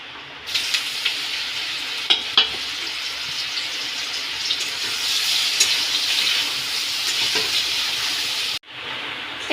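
Raw green banana slices fry in hot oil in a wok, giving a steady, close sizzle throughout with a few brief utensil clinks, before it cuts off abruptly near the end. No one speaks.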